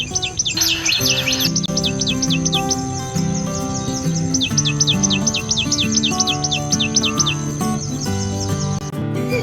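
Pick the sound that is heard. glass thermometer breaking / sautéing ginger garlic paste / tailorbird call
tailorbird call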